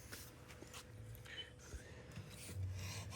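Knife blade honed on a Nano Hone 1x6 fixed-angle sharpening jig, very faint close rubbing strokes scraping repeatedly in an irregular rhythm.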